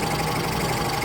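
An air compressor pump motor runs with a steady droning whir. The pump is turning heavily and throwing oil, and the motor runs alone with no voices.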